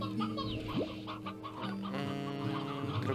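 Chickens cluck in the video game Slime Rancher, a steady run of near, overlapping clucks layered over busy game music and effects with no pauses.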